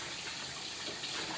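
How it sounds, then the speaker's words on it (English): Water poured from a plastic cup into a cooking pan, a steady close splashing rush that continues evenly with no talking. "I just fill the pan up with water."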